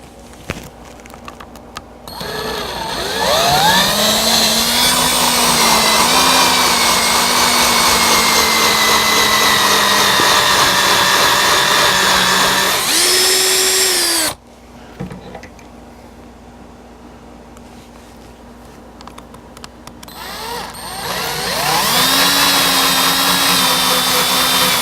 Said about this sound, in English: Now I'll go ahead and drill my other holes.